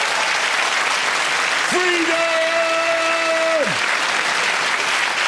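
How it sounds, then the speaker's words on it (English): A comedy audience at a stand-up show breaks into continuous applause. A voice shouts a single drawn-out word over the clapping partway through. "Give yourselves a round of applause."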